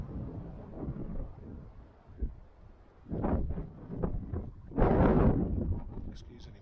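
Gusty wind buffets a microphone outdoors in the countryside at the tail end of a storm, with low rumbling bursts that swell and fade and a strong loud gust near the end.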